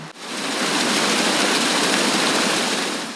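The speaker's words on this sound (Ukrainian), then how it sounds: "Ще треба постійно насичувати воду киснем, тож кожен басейн обладнаний ось такими аераторами." Fish-pool aerators churn and bubble the water in a fish farm's pools, producing a loud, steady broadband rushing like a small waterfall that runs continuously without pause.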